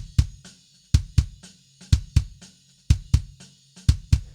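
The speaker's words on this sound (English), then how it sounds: "Nice, solid, fat, beefy kick right there." Layered metal kick drum with added sub, punchy and fat, striking in quick doubled hits with gaps between, loud and dry with no voices.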